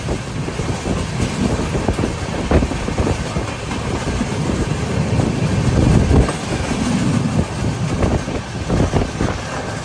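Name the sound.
express train running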